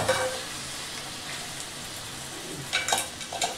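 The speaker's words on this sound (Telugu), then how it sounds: "వేసుకుని ఒకసారి గరిటె పెట్టి తిప్పాలి" Dried red chillies sizzle and crackle in hot oil in a pan while a ladle stirs them, giving a steady fry with a few louder scraping bursts toward the end.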